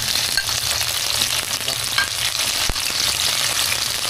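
Garlic and chopped tomatoes fry in a hot pan for pinakbet, a dense continuous sizzle with soft stirring scrapes and one sharp clack, close and loud with no talk.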